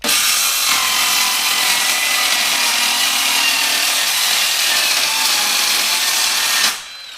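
A power saw cuts a sheet for a utility trailer, giving one loud, continuous, harsh rasp that runs for several seconds before cutting off abruptly near the end.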